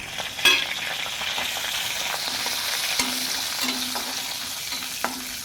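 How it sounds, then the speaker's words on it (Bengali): Fennel seeds, cumin, dried red chilli and bay leaf tempering in hot oil in a kadai, a steady sizzle with crackling pops and occasional sharp spatula scrapes against the pan, close and fairly loud, no voices. "মৌরি দিয়েছি, আর এই যে জিরা, শুকনো লঙ্কা আর তেজপাতা কড়ার মধ্যে আমি দিয়ে দিলাম"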